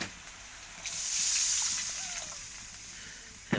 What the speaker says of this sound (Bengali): এখন পেঁয়াজটা হালকা ভাজা হয়ে গেছে, একটু পানি দেব যাতে পুড়ে না যায়।